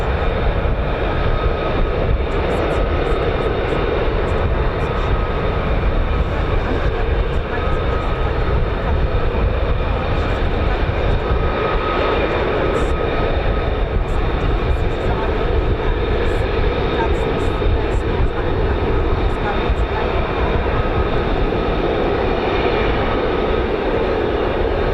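An F-35A fighter jet's large turbofan, rated at 43,000 pounds of thrust, roars steadily and loudly at RAF Lakenheath with the 48th Fighter Wing, a continuous rumble with a commentator talking over it.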